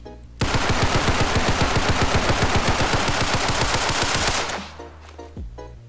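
Rapid automatic gunfire from a gun in the Roblox game Criminality running at 30 FPS, a loud sustained burst of about four seconds with an even rhythm, then stopping and leaving a short tail.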